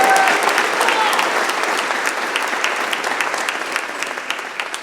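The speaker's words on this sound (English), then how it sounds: "now that we've given his colleagues a round of applause, can we give Paul specifically?" A crowd of neighbors at a community council meeting with a city councilmember claps loudly and continuously, the dense applause gradually tapering off.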